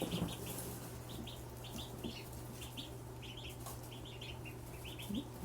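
Tiny ducklings peep in quick, high clusters, close by, over a steady low electrical hum; no one speaks.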